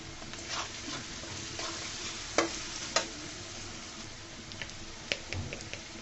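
Potatoes and spring onions frying in a pan are turned with a spatula, giving a few sharp scrapes and knocks over a constant soft sizzle, close but fairly quiet and with no voices.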